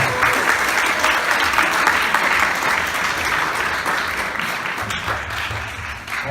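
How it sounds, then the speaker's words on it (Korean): Sustained applause from an audience at a high school debate contest, steady and dense throughout, close and loud with no speech over it. "한 번 더 뜨거운 박수 부탁드리겠습니다"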